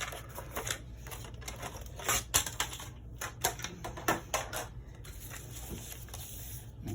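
Paper being scored at the 6.5-inch mark with a scoring tool while making a handmade envelope: a run of sharp, close clicks and taps in an uneven rhythm, fairly quiet and with no talking.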